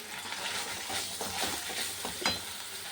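Tomato paste masala with chili powder, turmeric and salt fries in a pan, a constant close sizzle broken by soft stirring scrapes and a small clink.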